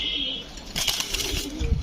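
A male racer pigeon coos nearby in a loft setting, with a short throaty call and a brief rustle, close and moderately loud.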